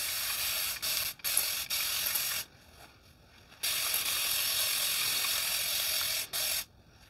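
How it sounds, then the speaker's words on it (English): Fine mist spray bottle wetting down hair before brush styling, a series of soft hissing sprays, some short and some several seconds long, close and fairly quiet, separated by brief silences. "So I'm going to wet my hair down again before brush styling."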